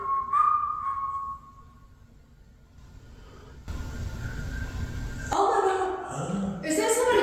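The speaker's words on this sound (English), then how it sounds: "Is that somebody whistling?" A clear whistle rings out and fades during a nighttime haunted courthouse investigation in Appalachia. Quiet rustling and shuffling follow, then voices talk near the end.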